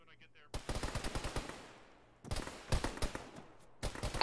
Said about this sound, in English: Two is taking fire outside west